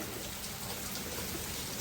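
Rain falls steadily in a soft, continuous patter, faint and even throughout.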